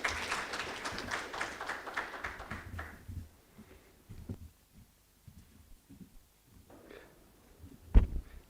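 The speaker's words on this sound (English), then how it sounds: "Another big applaud for Mercy." Audience applause at a plenary conference session, a dense burst of clapping for the first three seconds, then it dies away into scattered thumps, a few sparse claps and a sharp knock near the end.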